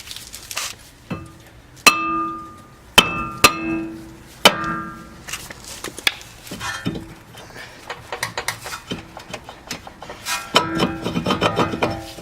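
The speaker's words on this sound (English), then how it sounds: "you can hit in the center here and just kind of shock it to break it free" A hammer strikes the center of a brake rotor to shock it free, giving sharp metallic clanks with ringing tails spaced a second or so apart, then quicker, lighter taps and scraping.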